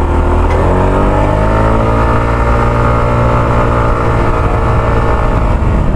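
A Kymco KRV 180 scooter engine climbing a steep uphill road, loud and close with a sustained droning whine that rises and strains steadily throughout, with no talk.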